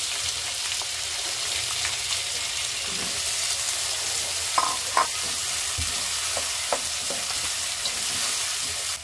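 Garlic, onion and tomato sizzle steadily in oil in a pan for menudo, a continuous close frying hiss with scattered stirring clicks and scrapes and no talk.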